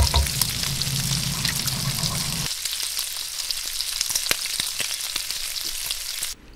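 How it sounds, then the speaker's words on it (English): Breakfast frying in a pan inside a motorhome, a steady close sizzle and crackle with a brief stir or scrape at the start, no voices. "After a good night's sleep, nothing beats the sound and smell of breakfast."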